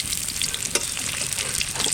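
Pomfret fish shallow-frying in hot oil until red-browned, a close, constant crackling sizzle with scattered pops and one sharp clink of a utensil.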